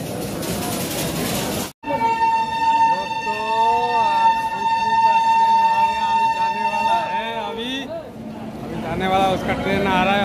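A train arriving sounds long, sustained horn-like tones over a rumbling background, while people talk nearby throughout.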